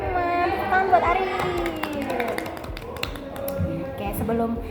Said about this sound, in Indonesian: Tepuk tangan buat Arif